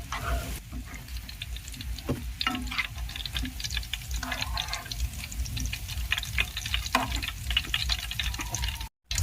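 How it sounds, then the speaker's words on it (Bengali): Pitha fry in oil and are lifted out, a faint, continuous sizzle with light scraping and clinking from the utensil throughout, close to the pan. "পিঠাগুলো ভাজা হয়ে গেছে। এবার আমি তেল থেকে তুলে নিচ্ছি।"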